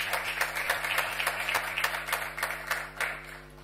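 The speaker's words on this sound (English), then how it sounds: "let's give ourselves a great round of applause for this great and historic event" Scattered clapping from a small audience at a university memorial lecture, distinct claps rising over a steady electrical hum, fairly quiet and without voices.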